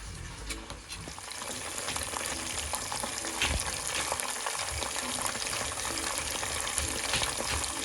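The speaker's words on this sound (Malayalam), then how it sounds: "ഏകദേശം ഒരു ബ്രൗൺ കളർ ആവുന്നത് വരെ ഡീപ്പ് ഫ്രൈ പോലെ നമ്മൾ ആക്കിയെടുക്കണം." Marinated chicken pieces deep frying in hot oil for a Kerala chicken biriyani, a steady dense crackling sizzle running close and loud throughout with occasional brief pops, no voices.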